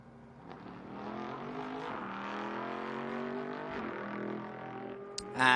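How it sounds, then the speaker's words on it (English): A vintage race car, the same type as one driven by Romain Grosjean in Gulf colours, runs at Sonoma Raceway during the Velocity Invitational. Its engine sounds steady and harmonic, with a sharp louder burst near the end. "Now this is a similar car to what Roman Grosjean drove yesterday"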